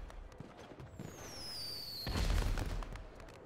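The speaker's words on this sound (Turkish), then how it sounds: "Havai fişek atıyorum." A firework launched in the video game GTA V gives a falling whistle that ends in a loud, booming burst.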